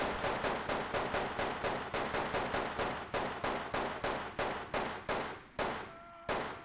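Rapid gunfire in the video game Delta Force Land Warrior, a dense run of loud, close, evenly spaced shots in quick bursts that ends in a short pause and a final report.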